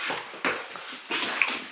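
A dog whimpers and whines in a car in short, high, nasal bursts, two or three close cries separated by brief pauses.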